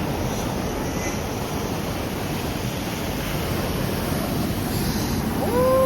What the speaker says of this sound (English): these are the waves